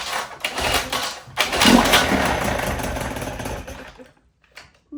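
Cranking and sputtering from a 1977 Johnson 9.9 electric-start outboard motor, unused for about ten years and run with the choke on, as it catches into a rough, loud running burst for a few seconds and then dies away.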